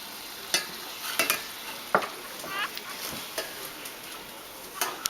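Cheese browning in butter in a pan, sizzling steadily while a spatula scrapes and taps at irregular intervals, close up and without talk.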